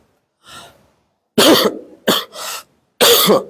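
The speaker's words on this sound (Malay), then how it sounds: "kamu masih batuk" Four harsh coughs burst out close to the microphone, one faint followed by three loud ones in quick succession, during a religious lecture, with no speech between them.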